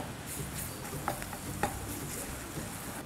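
Garlic sautéing with golden-brown fried onions for cauliflower fried rice: a soft, even sizzle with a couple of light spatula clicks, close but fairly quiet, no talking.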